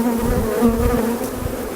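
Honey bees buzzing around an open hive during an inspection, a dense continuous hum from many insects close by, steady and loud with slight wavering, no voices.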